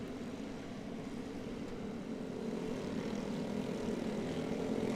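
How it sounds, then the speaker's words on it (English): Short course off-road racing karts run on a dirt track at an ERX off-road national race, heard as a faint, distant, continuous engine drone that swells a little louder toward the end. "looks like everybody moving once again for the short course karts"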